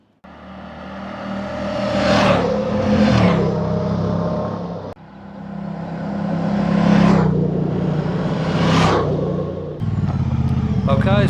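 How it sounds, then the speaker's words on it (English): A Moto Guzzi Stelvio adventure motorcycle on a test ride, its engine rising and falling through two long revving pulls with gear changes, loud and close, while a rider talks over it. "test riding the Stelvio."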